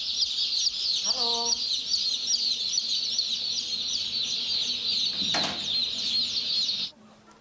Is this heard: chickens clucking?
yes